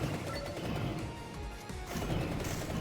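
A crashing, shattering burst as an enemy breaks apart in the video game Vampire Crawlers, set in a dense, continuous wash of game sound effects.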